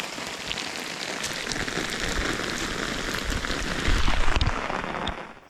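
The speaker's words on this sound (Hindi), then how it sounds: "क्योंकि बारिश बहुत तेज़ हो रही थी।" Heavy rain pours down steadily on a mountain route to the Rudranath temple, a dense close hiss that swells slightly near the end before easing off.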